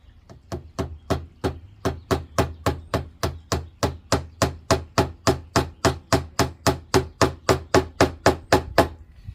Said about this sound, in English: I use a Warrington hammer because it has this little flat spot here.